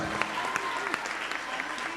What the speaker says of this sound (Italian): Ha avuto l'applauso, hai visto?